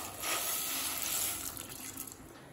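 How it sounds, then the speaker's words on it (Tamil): Water pours steadily into a pot for a couple of seconds, a soft splashing gush at close range. "தேவையான அளவு தண்ணி சேர்த்துக்கலாம்."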